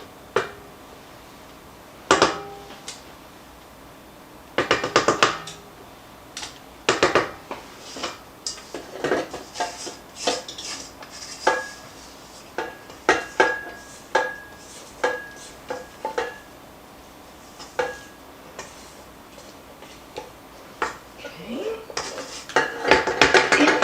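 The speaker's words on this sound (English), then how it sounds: "Scrape down my bowl." A spatula or spoon scrapes and knocks around a mixing bowl, a string of sharp clinks and scrapes close by with quiet pauses between them, and no voices.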